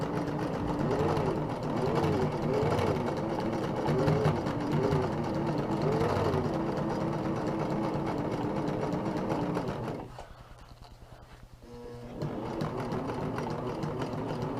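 A sewing machine stitching reinforcements on a homemade ultralight tarp, running in a steady, loud, close whir with rhythmic cycling, briefly slowing and quieting before starting up again.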